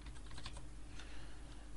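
Rapid, close typing on a computer keyboard while adjusting a clone brush size with the square bracket keys in photo retouching software, a steady run of crisp clicks with no talk.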